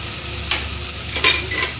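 An egg dish stir-fries in a pan with chilli and turmeric powder, two or three quick scraping stirs rising over a steady close sizzle, no voices.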